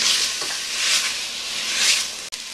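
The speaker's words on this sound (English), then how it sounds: "my meat's kind of seared on the outside" Meat sears in oil in a stew pot with a loud, steady, close sizzle that swells and eases slightly, with a brief scrape of stirring, and no voices.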